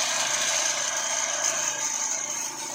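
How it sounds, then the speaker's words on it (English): Drills run on a roof during building work, giving a steady, fairly loud high-pitched whine that holds constant for a few seconds and eases slightly at the end, with no one speaking. "The drillers are drilling."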